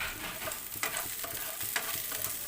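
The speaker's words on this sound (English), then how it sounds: "And then we can throw our chopped, onion." One roughly chunked onion fries in a pan for chicken curry: a bright, continuous sizzle broken by repeated scraping stirs of the utensil against the pan, with no one speaking.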